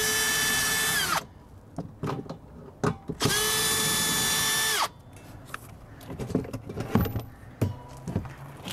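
Cordless power drill driving out 3/8-inch hex-head self-tapping screws from a camper battery box on a Flagstaff E-Pro 15TB travel trailer: two loud, sustained whirring bursts with a falling whine as each stops, followed by clicks and handling clatter.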